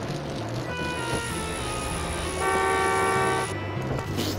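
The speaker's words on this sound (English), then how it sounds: "Why honk your horn? I wasn't even in your lane." A car horn sounds in the video game Bully: Scholarship Edition, a sustained honk over steady traffic and engine noise in the game world.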